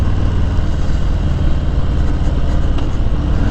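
A 2020 Harley-Davidson Low Rider S ridden on a Long Beach demo ride, its engine droning loud and steady with a deep low rumble and wind roar, no voices.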